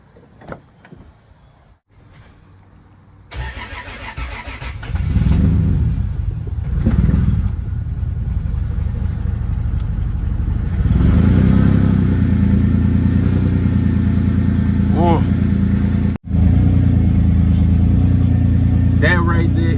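Lexus IS300 with a naturally aspirated 2JZ engine cranks and starts, then settles into a loud idle and revs, rising in level after a few seconds of quiet shop noise, with a brief dropout before the engine carries on.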